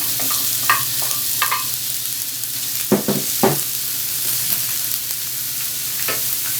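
Onions sizzle in hot olive oil in a pan, a steady soft frying hiss punctuated by several sharp scraping stirs and clatters of a utensil.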